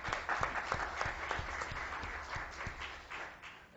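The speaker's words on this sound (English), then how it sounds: "Give him a round of applause" Audience applause for candidate Ross Downs at a judges' forum in Bastrop, Louisiana: steady clapping from a crowd filling the room with dense, continuous patter, fairly close and even in level throughout.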